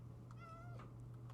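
A cat meows in the video game Minecraft, a single short, drawn-out meow that is faint and alone over a steady low hum.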